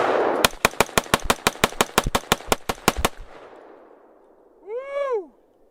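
An AR-15 rifle fitted with a muzzle brake firing about fourteen rapid shots outdoors, loud sharp evenly spaced cracks over roughly three seconds, followed by a short whooping vocal sound.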